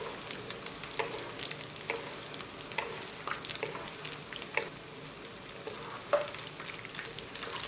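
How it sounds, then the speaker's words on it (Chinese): Eggplant chunks deep-frying over high heat in hot oil: a continuous dense crackle and spatter with scattered sharp pops, moderately close and steady the whole time. "锅内的油烧至5成热的时候，倒入茄子，用大火炸至。"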